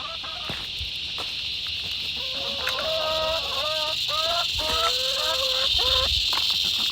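Backyard chooks in a chicken house cluck and call repeatedly near the listener, a busy run of rising and falling bird notes over a constant high insect-like hiss and some faint handling noise.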